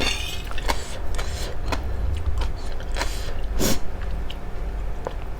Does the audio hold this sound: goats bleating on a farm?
no